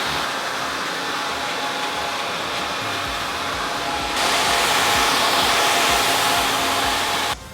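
A hair dryer blows hot air steadily and loudly during a barbershop fade haircut, growing stronger about halfway through before shutting off abruptly just before the end.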